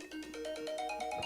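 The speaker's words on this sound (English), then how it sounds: "Got a phone call coming in." A phone ringtone for an incoming call plays alone, a bright repeating melodic pattern of short tones in a steady rhythm, moderately quiet and close.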